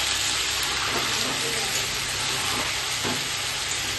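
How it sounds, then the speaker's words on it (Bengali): Taro pieces fry in a hot pan with a loud, continuous sizzling hiss, broken by a few soft stirring scrapes. "এবারে কচুগুলো নাড়াচাড়া করে একটু ভেজে নেবো হালকা।"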